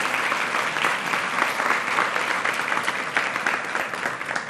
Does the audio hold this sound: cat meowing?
no